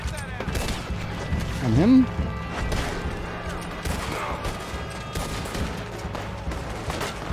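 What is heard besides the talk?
gunfire in video game Red Dead Redemption 2 bank robbery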